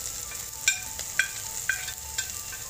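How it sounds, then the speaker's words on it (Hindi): Cauliflower florets frying in oil in a pan give a steady soft sizzle, with a few brief scrapes or clinks of stirring spaced about half a second apart. No voices are heard. "हमारे फूल अच्छी तरीके से तल चुके हैं"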